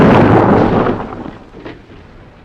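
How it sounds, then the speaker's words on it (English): A loud explosion wrecks a car in a 1950s British comedy film, opening with a heavy, booming blast that rolls and rumbles away over about two seconds into a fading tail, with no talk. "Mystery explosion wrecks Pierre's car."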